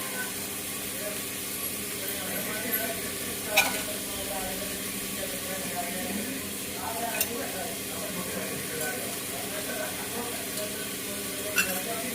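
Tomatoes fry and get stirred in a home kitchen pan, a soft steady sizzle with occasional utensil scrapes and clinks, while someone talks over the cooking.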